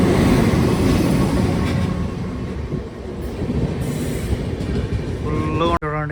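A train, likely a goods or express, rolls past continuously and close at an Indian station for several seconds, with a brief dropout near the end followed by wheel squeal.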